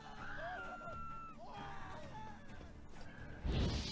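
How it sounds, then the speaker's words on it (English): Screaming in The Witcher 3 rises in several wavering, drawn-out cries over a rumbling combat bed, ending in a heavy crash-like burst at the close. "Well, that's a lot of screaming."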